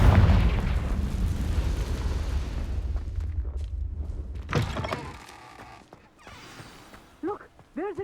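A Confringo fire spell explodes in the Hogwarts video game: a loud, booming blast that rumbles and decays over several seconds, followed by a sharp crackling burst and a few scattered magical whooshes.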